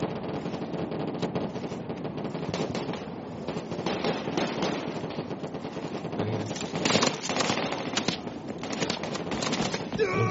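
Video game battle at Peninsula: dense, continuous rapid gunfire crackling back and forth, with bursts building louder near the end, while players talk under the shooting.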